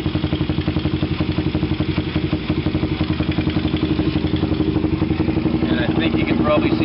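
A carbureted motorcycle engine settles into a steady idle, close up, with a rapid, even thumping putter and slight mechanical clatter throughout.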